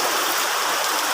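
Water flows steadily near Catabon Cave, a dense broadband rush that stays even and close for a short stretch with no voices.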